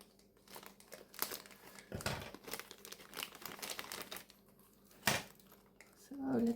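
Plastic toy packaging for a fashion doll being cut open, close crinkling and rustling with sharp snips and crunches scattered across several seconds, quiet and intimate, with a brief voice near the end.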